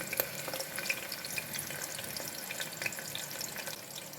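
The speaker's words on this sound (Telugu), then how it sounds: "కాస్త లైట్ బ్రౌన్, కానీ మరీ బ్రౌన్ లేకుండా లైట్ బ్రౌన్ వచ్చేలాగా వేయించి పెట్టుకోవాలి" Onions and garlic fry in a pan for a Rayalaseema fenugreek dal, making a soft, steady sizzle with scattered crackles and pops, faint and close, with no voices.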